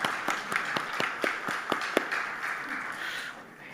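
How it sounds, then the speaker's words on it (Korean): Church congregation applauding the Hallelujah choir during an afternoon worship service, with sharp claps standing out over steady crowd applause that lasts a few seconds before tapering off. "다시 한 번 더 할렐루야 찬양대 경례 박수하겠습니다"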